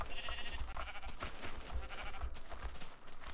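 Several sheep bleat in the TerraFirmaCraft video game, overlapping calls repeating over a low background hum, close and moderately loud.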